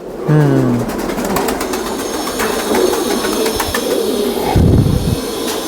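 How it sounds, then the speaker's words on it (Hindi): Sialkoti pigeons coo close by, a low rolling call at the start and another later, over constant busy background noise with faint ticking. "कबूतर देखें माशाल्लाह बहुत ही प्यारा कबूतर है।"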